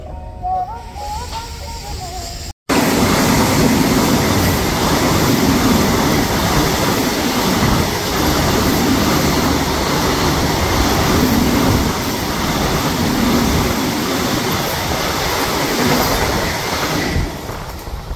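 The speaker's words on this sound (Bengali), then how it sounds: "একটা 5 মিনিটের হল্ট দেওয়ার পর কিন্তু খড়গপুর স্টেশন ছেড়ে আমাদের ট্রেন বেরিয়ে যাচ্ছে" Train pulling out of Kharagpur station after a five-minute halt, a steady loud rumble of rolling wagons with faint clatter filling the whole stretch after a brief quieter moment at the start.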